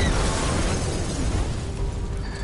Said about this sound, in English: Yay! Explosion time!